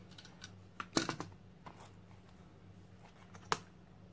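Scissors cut paper between two leaves for an art journal page, producing a few crisp snips and rustles close by, with two sharper cuts standing out against a quiet room.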